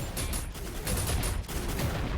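Dense gunfire from the mecha battle game Super Mecha Champions comes as a continuous, loud burst of rapid shots and booms that lasts the whole moment.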